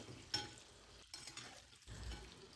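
Boiled eggs frying in turmeric and oil over a medium flame give a faint, steady sizzle with soft stirring scrapes and a brief clink near the start, with no voices.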